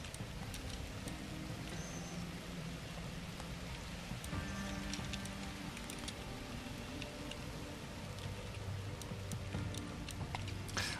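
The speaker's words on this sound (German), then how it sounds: "Regenwolke drüber." Steady patter of rain falls throughout in the video game The Universim, with faint ticks and small tones mixed in, moderately quiet and continuous with no talking.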